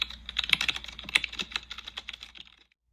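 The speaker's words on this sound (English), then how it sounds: "He sits down and begins typing on his computer." Rapid clicking of keys as someone types on a computer keyboard, an uneven burst of close taps that slows and stops after a few seconds, with no voices.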